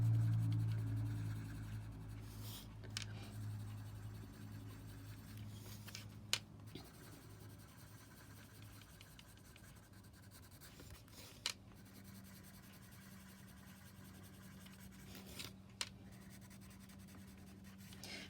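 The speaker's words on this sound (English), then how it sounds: "I'll just take my blending pencil and blend the areas." A blending pencil rubs colored pencil into paper with soft, faint scratching strokes, quiet and intermittent over low room hum.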